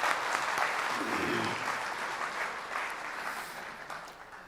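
A crowd at a poetry recital (mushaira) in Dubai applauds steadily, loud at first and gradually tapering off.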